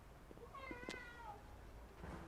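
A cat in the video game Forspoken lets out one clear, drawn-out meow, rising then falling, over a quiet background hum.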